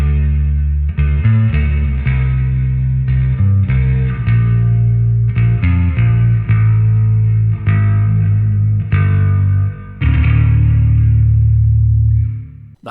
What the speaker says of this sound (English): That's the reverb.